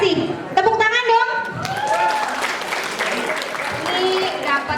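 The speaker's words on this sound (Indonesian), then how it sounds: "Tepuk tangan dong." High school students applauding during a customs presentation at SMA N 1 Kendal, a burst of clapping from a crowded room mixed with excited chatter and children's voices, close and lively.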